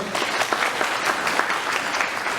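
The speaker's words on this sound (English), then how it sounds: "Give him a round of applause" Audience applause at a medal presentation ceremony for Chinese American WWII veterans in Sacramento, a steady dense wash of many hands clapping throughout, fairly loud and close.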